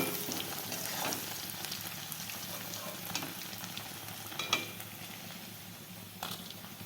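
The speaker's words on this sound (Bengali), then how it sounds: "পনিরটা আমি বেশি কড়া করে ভাজবো না, হালকা করে ভাজবো" Paneer fries lightly in a pan at home with a steady, soft sizzle and faint crackles, plus a few small pops and utensil taps. No one speaks.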